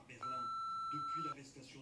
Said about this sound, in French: merci de laisser un message après le bip sonore.